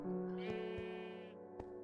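A Minecraft sheep gives one drawn-out, wavering bleat, close and clear, followed by a few faint clicks in an otherwise quiet game scene.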